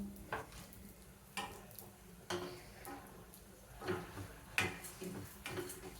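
Pumpkin, sunflower and watermelon seeds fry in a pan, giving a faint, quiet sizzle with light ticking and periodic scraping stirs at a steady, unhurried pace.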